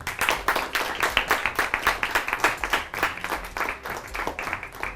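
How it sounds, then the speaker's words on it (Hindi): A quiz show audience claps in a fast, rhythmic, cheering burst of applause. The claps pulse steadily and loudly with no speech on top. "जोश और खरोश से भरपूर तालियां होनी चाहिए आप सबके लिए।"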